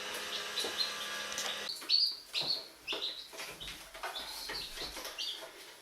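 Newly hatched baby chicks give high, thin chirps and peeps in short, uneven bursts, fairly close but quiet, with a faint hum behind them for the first couple of seconds.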